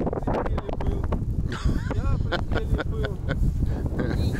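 Wind blowing across a rocky outcrop at a countryside farmstead, a steady broadband rush buffeting the microphone throughout, with voices talking intermittently over it.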